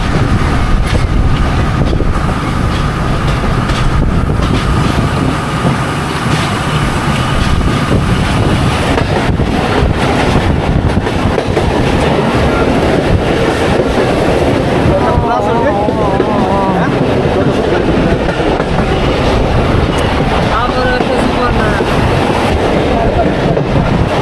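Betna commuter train running from Khulna to Benapole on a rainy morning, a loud, continuous rumbling roar mixed with heavy wind buffeting the microphone.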